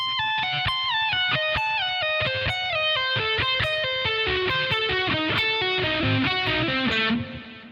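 Fast distorted electric guitar lick from a guitar solo, a rapid descending run of picked notes from high up the neck, loud and continuous, ending with a sustained bend fading out.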